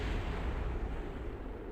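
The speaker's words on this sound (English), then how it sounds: "There are other things exploding over there." Explosions in the space game Kerbal Space Program, a dense, rumbling burst of noise that stays loud and steady for about two seconds with no talk over it.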